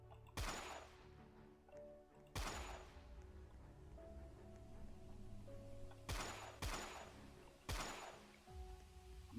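Sparse gunshots in a Roblox combat game, a handful of sharp cracks spaced irregularly with quiet gaps between, fairly faint and heard alone.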